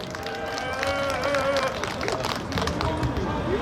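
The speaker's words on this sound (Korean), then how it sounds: "황광만 전우에게 뜨거운 박수, 격려의 박수를 부탁드리겠습니다." A crowd of Vietnam War veterans at an outdoor press conference applauds warmly, with dense continuous clapping under a babble of voices and a few shouts.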